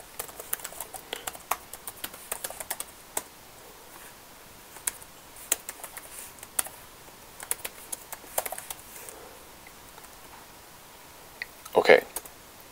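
Quick clicking keystrokes on a computer keyboard while entering HTML code, a light, irregular patter of taps close to the microphone with brief pauses and a short louder burst near the end.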